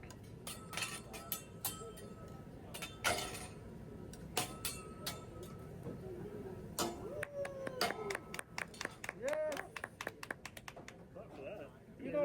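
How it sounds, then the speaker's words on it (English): Diners at a Japanese hibachi steakhouse table clap in short, scattered bursts amid sharp clinks and taps of spatulas on the griddle, with people talking around the table throughout. "You gotta clap. You better clap too."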